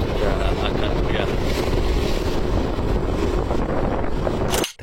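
Strong wind buffets a handheld smartphone microphone outdoors, a loud continuous roar of gusts that keeps up throughout before cutting off abruptly at the end.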